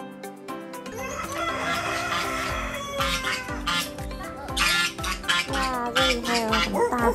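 Chickens clucking and a rooster crowing at a farm that also keeps geese, close and fairly loud, repeated calls over several seconds with a few faint voices underneath.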